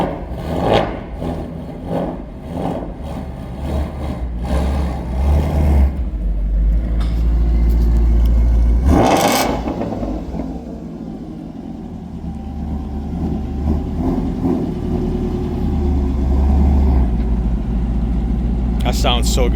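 A 2016 Shelby GT350 Mustang V8 fitted with a Roush H-pipe rumbles with a deep, steady exhaust note, swelling in a brief rev midway before settling back to a throaty idle.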